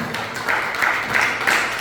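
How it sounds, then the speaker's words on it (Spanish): A church congregation claps together in a quick, even rhythm, a moderately faint, continuous patter of hands lasting under two seconds. "Dale un fuerte aplauso al Señor."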